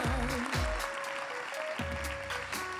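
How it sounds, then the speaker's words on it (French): An audience at an awards ceremony for local business trophies at the Palais Beaumont in Pau applauds steadily for nearly three seconds, with sustained music tones running over the clapping. "Des applaudissements s'il vous plaît pour Biomode et pour les autres nommés de cette catégorie."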